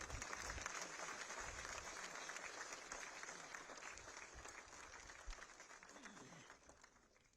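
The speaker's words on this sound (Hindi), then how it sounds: "एक बार जोरदार तालियां हो जाएं इनके लिए" Applause rises from the audience at a naval plenary seminar session, dense clapping that gradually thins and quietens over several seconds, recorded faintly with some voices beneath.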